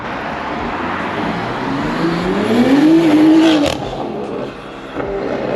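A loud car with a newly installed aftermarket Valvetronic exhaust revs up with a rising, raspy exhaust note, holds briefly, then drops off, with steady road rumble underneath and no talking.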